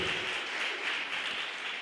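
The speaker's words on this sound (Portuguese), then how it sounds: "Você pode aplaudir o Senhor?" A church congregation claps together in praise, a dense, even wash of hand-clapping filling the room for a short moment, with no voices over it.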